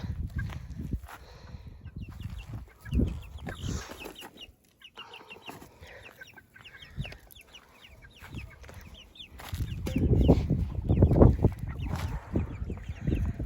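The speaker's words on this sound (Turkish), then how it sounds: "Horozlarımı da getirdim şöyle." Roosters and hens cluck and crow outdoors amid rustling background noise, the calls growing louder and denser toward the end.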